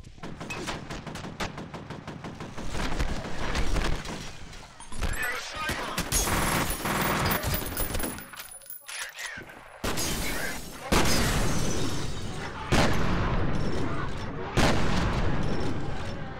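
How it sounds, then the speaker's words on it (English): Rapid machine gun fire and heavy volleys in the first-person shooter video game FEAR, loud and sustained across the clip, with bursts broken by short pauses and explosive booms, talk mixed in. "Machine gun"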